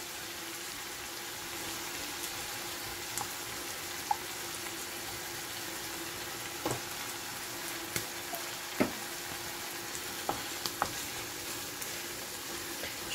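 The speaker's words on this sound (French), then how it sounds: "Je vais ajouter de la crème liquide, à peu près 100 ml de crème liquide" Liquid cream goes into spinach cooking in a frying pan and sets off a steady sizzle and bubbling. Scattered light clicks of stirring come through the sizzle, and the sound stays fairly close and constant.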